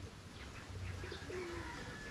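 A pet bird, likely a dove, gives soft cooing calls, faint and brief against quiet room background, with a couple of low drawn-out notes.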